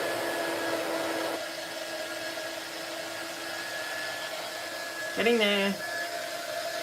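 A hair dryer blows steadily on a craft piece, a continuous whooshing drone that eases slightly partway through and carries on under a brief spoken remark.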